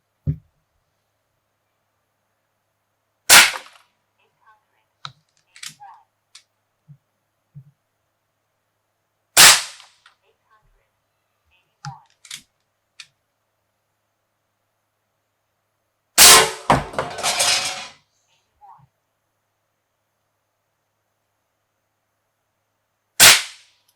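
Four loud, sharp shots from an AEA Challenger Pro .30 caliber air rifle firing heavy 68-grain Javelin Gen 2 slugs in a backyard, spaced several seconds apart, with small clicks and handling noises between them and a longer burst after the third shot.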